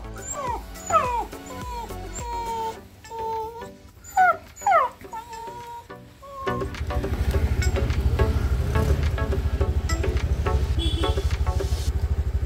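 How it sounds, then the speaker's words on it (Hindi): A dog whimpers and cries in high, wavering yelps and whines, up close and fairly loud, before a steady low engine rumble takes over and a few fainter whimpers continue under it. "तो ये देखिए जिमी जो है रो रहा है।"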